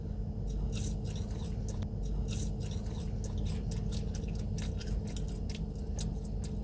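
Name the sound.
crunchy chewing of fast food french fries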